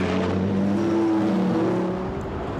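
GT race cars at Zandvoort in a Blancpain Sprint Series race, engines droning loud and steady with rising tonal whine as one car pulls away from an Audi, no talk over it.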